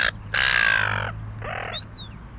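Gulls call on a shore, a few harsh drawn-out squawks in quick succession, near and fairly loud, followed by a thinner rising cry, over a low steady background hum.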